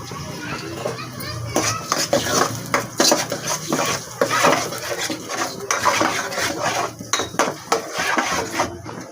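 Onions sautéing in oil in a pan, with a spoon stirring and scraping against the metal in irregular clinks and a soft sizzle, heard under nearby talking and children's voices.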